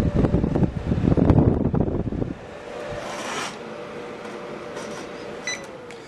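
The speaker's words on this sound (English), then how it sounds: "I can even turn it up all the way to the full blower" A battery-powered fan run at full power blows hard into the microphone as a loud gusty rush for about two seconds, then drops to a quieter steady whir with a faint motor whine and small clicks.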